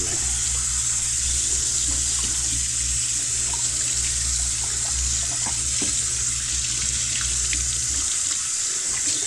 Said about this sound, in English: Just give it a quick rinse under some cold water.